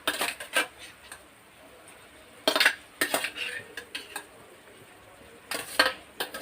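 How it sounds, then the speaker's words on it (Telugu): Pasta tipped into a pot of boiling masala water, heard as sharp metallic scrapes and clinks of utensils against the pot in a few loud bursts, close up with no talking. "ఇది ఇలా మరుగుతూ ఉన్న టైంలోనే మనం పాస్తా వేసేసుకుందాం"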